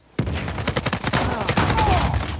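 FAL battle rifle gunfire in Uncharted 4, a sudden onset into a rapid, steady string of loud shots lasting about two seconds, with a little background game noise.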